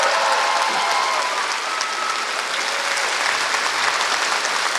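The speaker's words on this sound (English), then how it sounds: "Let's give them a round of applause." A commencement crowd applauds the graduates with a full, sustained wash of clapping that stays loud and even throughout, with faint cheers mixed into the mass of hands.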